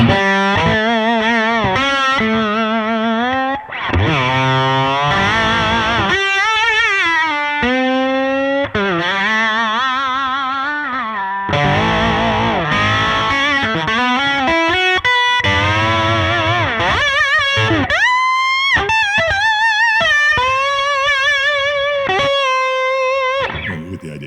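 Overdriven electric guitar through Fishman Gristle-Tone P-90 pickups, played with a slide: gliding, sliding notes and sustained bends, loud and continuous with effects-laden tone.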